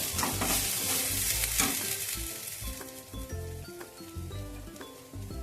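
Rice is stirred in a pan after frying, with half a spoon of salt added for peas pulao; a spoon scrapes and clinks in an uneven rhythm over a steady close sizzle, alone without talk.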